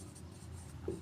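Numbers being written by hand on paper, a soft, close scratch of the pen across about a second, quiet and alone.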